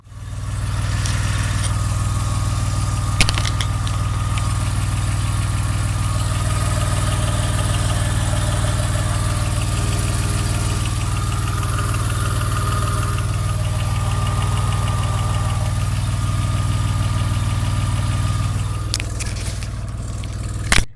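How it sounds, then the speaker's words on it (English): A 1983 DeLorean DMC-12 V6 idles steadily, heard up close in the engine compartment as a continuous low mechanical hum with a faint ticking texture and no pauses. "moving in closer to the engine compartment, I've got a second microphone here to get in close"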